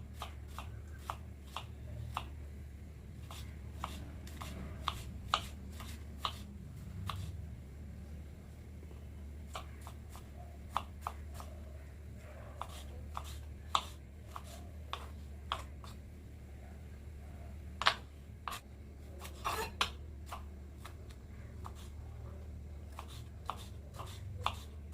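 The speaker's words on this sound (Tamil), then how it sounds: "அதையும் நல்லா ஃபைனாக சாப் பண்ணிக்கலாம்." A knife finely chopping two medium tomatoes on a board, with quick, irregular, faint tapping strikes that continue throughout, alone with no talk.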